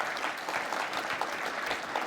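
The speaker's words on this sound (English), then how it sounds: "a big round of applause for all these people" Indoor audience at a cultural diversity awards ceremony applauding the sponsors, a steady, even round of clapping from a large crowd, heard at moderate distance.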